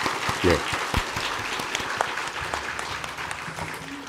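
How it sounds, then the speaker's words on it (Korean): Church congregation applauds in thanks after a sermon, a continuous patter of many hands with a voice briefly heard over it at the start. "큰 박수, 감사의 박수 한번 부탁드립니다"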